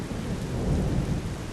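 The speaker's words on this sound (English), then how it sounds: "We woke up this morning to rain." Steady hiss of rain falling outdoors in the morning, with a low rumble underneath, continuous and fairly faint, with no voices.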